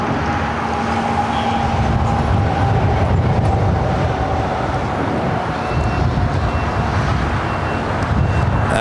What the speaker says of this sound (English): United A321 Neo.